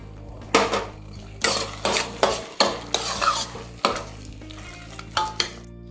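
Semiya halwa is stirred in a pan with ghee, and a spoon scrapes and knocks against the metal in repeated rhythmic strokes, roughly one every half second, over a faint background sizzle.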